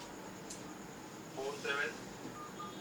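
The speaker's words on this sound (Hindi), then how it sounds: "मैं एक फोन मिस कॉल देता हूं आपका" Telephone keypad tones sound while a phone number is dialed: a short run of quick beeps, partly under someone talking, with a faint hum in the background.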